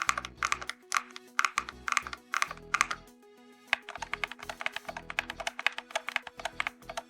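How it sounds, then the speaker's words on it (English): Typing on an UNCTRL magnetic plastic keyboard produces rapid bursts of clacky keystrokes with a slightly hollow tone, close and clear, broken by short pauses between runs. "A slight hollowness is there considering it's a plastic keyboard with lot of empty space"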